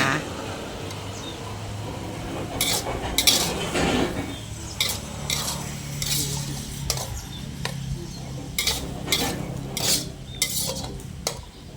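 Long beans are stir-fried with pork and red curry paste in a pan. A metal spatula scrapes and clinks against the pan in irregular bursts over a soft, steady sizzle.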